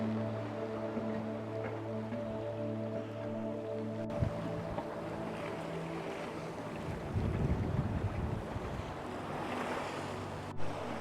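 A sailboat under reefed mainsail alone runs downwind in about 20 knots of wind off the Swedish west coast, with steady rushing wind, hull and wave wash, and gusting wind noise on the microphone.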